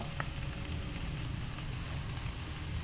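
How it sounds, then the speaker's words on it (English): Sirloin tip steaks sear in a hot pan with a steady, even sizzle that holds at moderate loudness throughout, with no voices over it. "I'm just going to throw them on there and just sear them on both sides."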